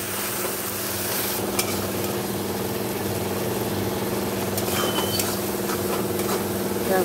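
Ginger garlic paste with cumin and coriander powder sizzles in a pan, a dense, steady frying hiss that holds at an even level, with faint clicks and scrapes over a low background hum.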